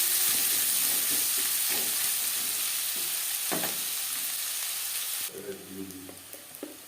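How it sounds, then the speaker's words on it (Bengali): Onions frying steadily in a pan for a spicy tomato fish curry, a continuous loud sizzle with a few soft stirring scrapes; the sizzle drops off near the end, leaving quieter clinks and stirring. "পেঁয়াজ অবশ্যই লালচে করে ভেজে নিতে হবে"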